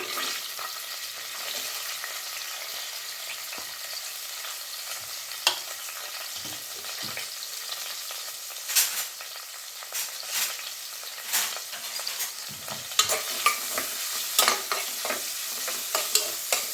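Onions frying in oil for a green masala avarekayi sambar make a steady close sizzle throughout, with scattered sharp spatters and stirring taps growing busier toward the end; no one speaks.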